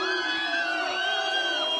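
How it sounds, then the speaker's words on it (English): A Chicago concert crowd boos a departing act, a sustained, loud wall of massed voices holding steady without a break. "They're fucking booing us for leaving."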